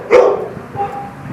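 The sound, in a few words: dog barking at animal shelter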